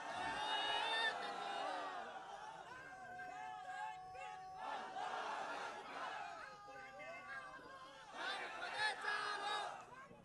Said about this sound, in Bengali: 2 হাত তুলে আল্লাহকে খুশি করার জন্য একটা তাকবীর দিবেন